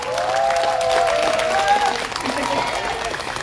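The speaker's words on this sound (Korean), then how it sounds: "박수!" A crowd at a union general strike rally in Korea claps in a dense burst of applause, with an amplified voice speaking over it before the clapping fades.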